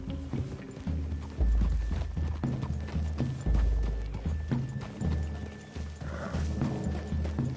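Horses walking through woodland in the Red Dead Redemption video game, hooves clip-clopping in an uneven rhythm, fairly close and loud, with a few heavier thuds and no talk over them.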